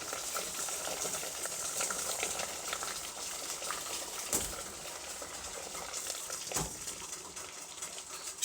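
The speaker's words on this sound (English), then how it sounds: "It is boiling, and now I'll add the peaches in the boiling water." Peaches go into a pot of boiling water, giving a continuous soft bubbling hiss with two brief dull plops as fruit drops in.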